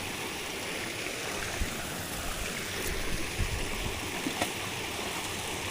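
A small waterfall in Las Vegas pours in a steady, close, full rushing hiss, constant throughout with a few faint knocks and no talk.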